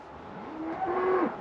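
Cows in a corral on a cold evening, a drawn-out moo rising and holding, with a second long bellow following, fairly close over a steady outdoor background.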